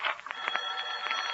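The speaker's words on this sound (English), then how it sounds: "It's the phone ringing" A telephone rings in short repeated trills, faint and slightly distant, in a domestic scene with a plumber at work. No voices are heard.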